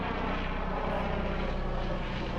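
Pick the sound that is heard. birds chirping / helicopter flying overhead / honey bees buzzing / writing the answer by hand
helicopter flying overhead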